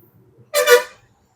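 A single short beep from the horn of a TVS EV Max electric scooter, loud, bright and close, lasting about half a second.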